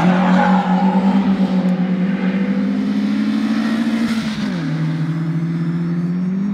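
An Opel car's engine accelerates hard through a corner, a loud sustained drone that climbs steadily in pitch, then drops after a shift and begins to climb again.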